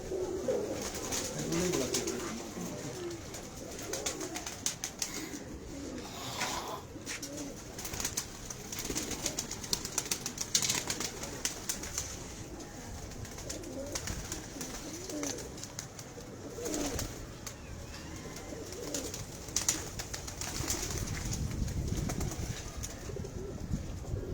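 Pigeons kept by a fancier in Bakkar Mandi coo softly and repeatedly in a low, rolling murmur, with faint flapping and background ambience.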